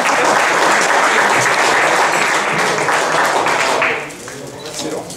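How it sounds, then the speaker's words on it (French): Audience at a karting awards ceremony held in a restaurant gives loud, sustained applause, dense clapping throughout that thins out near the end. "je crois qu'on peut les applaudir bien fort, encore une fois."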